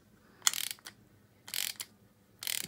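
A screw puller is tightened by hand to press bearings into an engine crankcase, giving three short bursts of clicking ratchet action separated by quiet pauses, close by.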